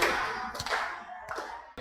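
A few sharp hand claps at a children's place-value lesson, three distinct bursts close by with brief ringing room tails in between.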